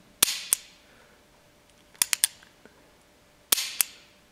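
An unloaded Ruger New Bearcat .22 revolver is dry-fired, giving sharp, close metallic trigger clicks in three quick pairs and a triple, separated by quiet pauses.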